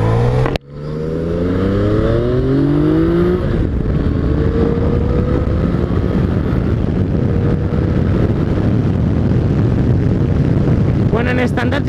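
A Yamaha MT-09 Tracer motorcycle rides in standard mode, its engine rising in pitch through the gears with a loud, continuous roar and heavy wind rush close to the rider, and no talk over it.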